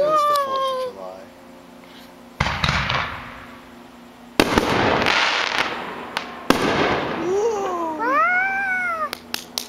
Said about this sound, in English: That one was a firework.